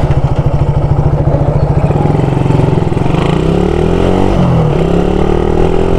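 A Suzuki X4 two-stroke motorcycle engine while riding, loud and close, with a rapid buzzing pulse that rises and shifts in pitch as the rider works the throttle, with no talking.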